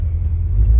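A 1951 GMC 100 pickup with a 468 engine driving along, a heavy low rumble close and steady, loud throughout a brief stretch with no talk.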